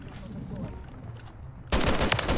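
Battle rifle fire in the video game Call of Duty MWIII: after a stretch of low, murky game ambience, a loud, close burst of rapid shots erupts suddenly and rattles on to the end.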